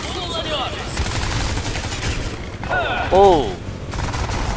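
Gunfire crackles in the video game Crysis 3, rapid shots and mechanical clatter running steadily while a man briefly exclaims and speaks over it.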